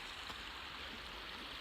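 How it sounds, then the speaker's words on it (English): A small creek just below a waterfall rushes in a soft, steady wash of flowing water, faint and continuous for a brief moment. "this little creek is the one that just came over the waterfall"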